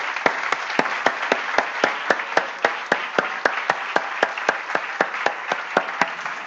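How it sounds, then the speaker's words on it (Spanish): Rhythmic, evenly spaced claps ring out in a church service, roughly four sharp beats per second in a steady unison pattern over a continuous background wash, sounding like a congregation clapping in time. "Denle un aplauso al Señor."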